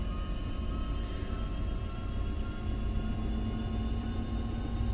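A helicopter in Microsoft Flight Simulator 2024 powers up toward idle, a steady low engine rumble with sustained whining tones, fairly quiet and unchanging.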